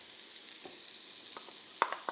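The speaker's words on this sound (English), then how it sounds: "We're going to saute that onion." Onion sautéing in a pan that still holds oil left from frying meatballs, a faint, soft sizzle broken by a few light stirring clicks, with no talk.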